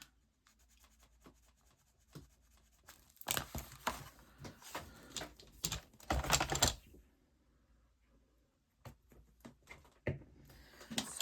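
Paper covering an envelope being trimmed, with scattered close scratchy cuts and rustling in bursts amid quiet gaps.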